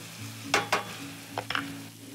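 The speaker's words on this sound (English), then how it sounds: "So now you just wanna wilt down the spinach a little bit, add it a little bit more butter just to kind of give it a nice little sheen" Spinach wilting in butter in a pan, a low sizzle with a few brisk stirring scrapes in quick pairs, close and brief, without speech.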